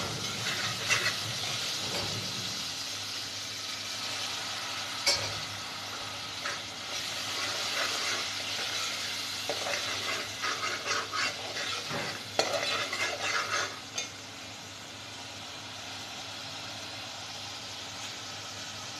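Crushed chili, ground coriander and garam masala sizzle in hot oil for bhindi masala while a spoon stirs and scrapes the pan, a continuous frying hiss broken by sharper scraping strokes.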